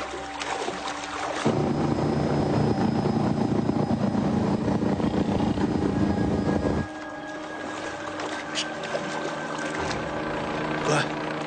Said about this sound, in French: Merde, des hélicoptères.